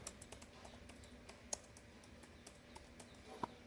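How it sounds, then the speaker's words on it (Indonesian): Light, scattered keystrokes on a computer keyboard during setup of a custom Android 13 ROM on an Oppo A16 phone, faint and irregular, with a couple of sharper taps standing out against a quiet background. "kita ketik dulu"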